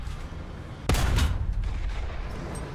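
Gunfire in a tank video game featuring a T-62M-1, a single loud sharp blast followed by a rumbling, decaying boom, close and without speech.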